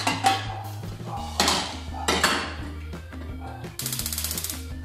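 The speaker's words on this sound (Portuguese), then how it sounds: "Pega a panelinha de pressão." A metal pressure cooker pan is picked up and handled, giving several sharp clanks and knocks near the microphone, then a quick metallic rattle at the end.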